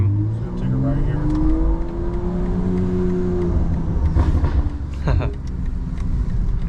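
Custom-tuned BMW M340i xDrive engine accelerates from inside the cabin, rising in pitch through the revs and then dropping at a shift, loud and close, with brief talking over it.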